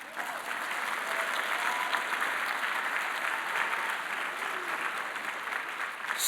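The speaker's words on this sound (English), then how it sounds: "and yes, you can applaud" Audience applause at an Eisenhower Fellowship event honoring a pianist, a steady dense wash of many hands clapping that holds at even strength throughout without voices.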